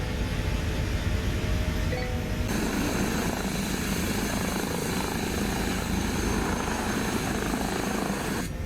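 Engine and rotor drone of an H160 helicopter in a VR flight simulator during a night flight over London, a steady loud whine and rumble held throughout with no talking.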